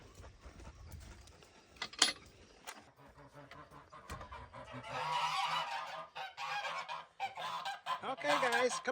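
Geese honk repeatedly at close range in a garden setting. The calls grow busier toward the end. A person greets them before the honking picks up.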